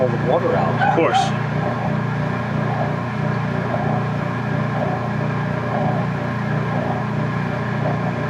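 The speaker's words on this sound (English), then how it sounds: "Dog's barking." A dog yips and barks a few times near the start, then goes quiet under a steady droning hum from a Whirlpool Direct Drive washing machine, with voices talking over it.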